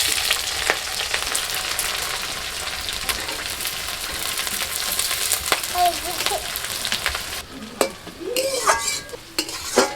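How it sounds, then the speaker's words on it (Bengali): Chopped onion fries in hot oil with whole cumin seeds, giving a loud, continuous crackling sizzle, with a few utensil clinks and stirring scrapes near the end. "ফোড়নটা ভেজে নিয়ে দিয়ে দিচ্ছি পেঁয়াজ কুচি।"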